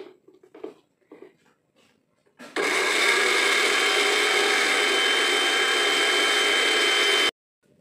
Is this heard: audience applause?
no